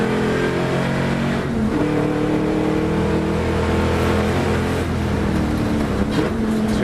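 Classic racing cars (a big V8, a smaller V8 and a flat-six) power through the Knockhill hairpin in a Scottish classic sports and saloons race, engines droning and shifting pitch continuously, loud and steady throughout.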